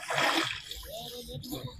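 A brief watery splash as someone dips into a river during a Makar Sankranti ritual bath, followed by sloshing while people talk nearby.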